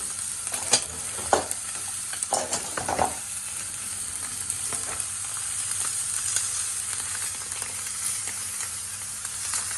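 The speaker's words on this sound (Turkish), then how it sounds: "Eti şu anda mühürlüyoruz. Suyunu içine hapsediyoruz." A beef entrecote steak sears on a hot grill pan, a close, continuous frying sizzle with a few louder crackling spatters early on.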